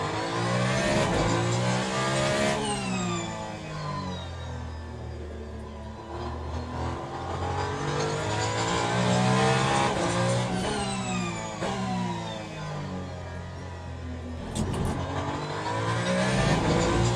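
The engine of a Le Mans Ultimate hypercar at the Circuit of the Americas howls loudly and continuously, rising and falling through rapid upshifts and downshifts with repeated revving sweeps, and no one talks.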